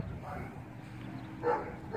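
Dogs bark at a Traxxas Rustler RC car outdoors, with two or three yips and barks that are faint and distant over a low background rumble.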